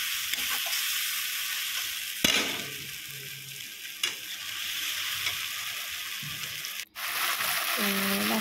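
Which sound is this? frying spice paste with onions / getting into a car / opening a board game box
frying spice paste with onions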